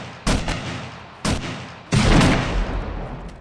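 Three loud gunshots from a weapon with heavy recoil in 7 Days to Die with the Starvation Mod, two sharp single reports followed by a longer booming blast with a lingering tail, close and alone.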